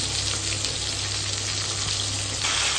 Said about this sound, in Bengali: আগে আলু পটলটা ভেজে নিই, তারপর ঝিঙেটা দেবো